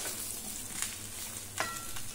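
Raw mango pieces toss in hot oil with five-spice seasoning for a pickle, a faint, even sizzle with two soft scrapes of stirring; no voices.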